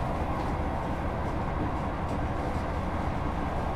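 An HST high speed train in Train Sim World 3 on the Midland Main Line, a loud continuous rumbling roar passing close and steady with no pauses.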